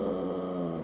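A dog giving a short, tonal whine with a growling edge, close and alone, lasting under a second and fading at the end.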